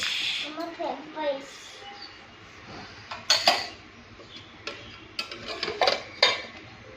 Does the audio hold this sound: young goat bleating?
no